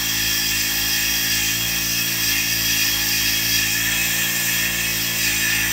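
A JOOLTOOL power sander fitted with a 220 grit abrasive runs with a loud, constant motor whine and a steady grinding hiss, close and uninterrupted throughout.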